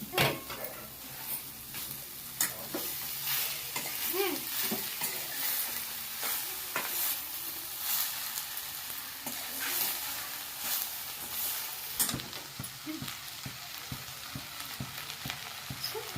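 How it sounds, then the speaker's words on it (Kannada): Dried honagone greens stirred and heated in a pan for a Karnataka bassaru palya, with steady scraping and soft sizzling throughout, punctuated by occasional clinks of the utensil against the pan. "ಅದನ್ನು ಇದರೊಳಗಡೆ ಹಾಕ್ಕೊಂಡು ಮಿಕ್ಸ್ ಮಾಡಿ ಸ್ವಲ್ಪ ಬಿಸಿ ಮಾಡಬೇಕು"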